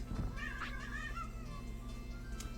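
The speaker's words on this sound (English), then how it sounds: "A moody kitty." A moody kitty in Digimon World gives a wavering, drawn-out meow over a steady low hum of background game music, with no talking.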